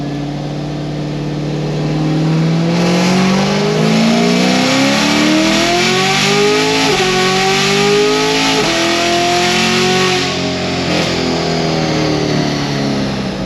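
An LT1 Camaro SS engine revs up loudly and close, pitch rising steadily, dipping sharply at each gear shift, then climbing again under hard acceleration with no voices.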